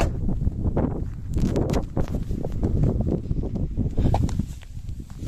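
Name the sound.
wind blowing on the microphone outdoors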